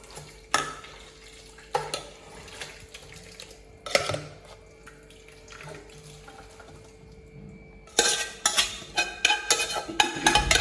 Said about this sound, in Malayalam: ഈ കുക്കറിലുള്ളത് ഇതിലേക്ക് അങ്ങോട്ട് ഒഴിക്കാൻ പോവാണ്